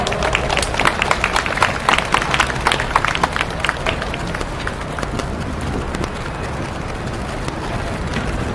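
Crowd applause at an outdoor memorial rally at Seoul Station, dense continuous clapping that is loud at first and then thins into a steady patter, with no speech over it.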